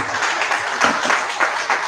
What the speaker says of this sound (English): I think we can give a round of applause to our guests